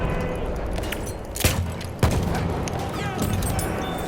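Grenade launcher fire and battle noise in the video game Battlefield 1, with a dense wash of distant gunfire and two heavier booming thumps, one near the middle of the clip and one a moment later. No speech is heard.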